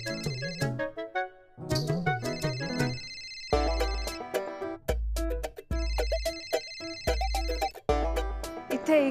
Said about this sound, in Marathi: माझा फोन वाजतोय.